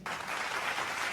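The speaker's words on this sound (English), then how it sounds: "Please help me clap for him." Applause from a gala audience, a steady dense wash of many hands clapping that swells in quickly and holds at an even level throughout.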